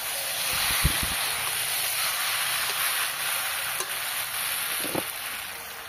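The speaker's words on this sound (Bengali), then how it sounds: "যে মাছের মাথাটা সম্পূর্ণ মশলাটা যাতে ভেতরে ঢুকে যায় সেইভাবে আর একটু নেড়ে নিতে হবে" Fish head being stirred with spices in a hot pan, a steady frying sizzle and hiss running throughout with a few soft scrape and clatter knocks from the stirring, no voices.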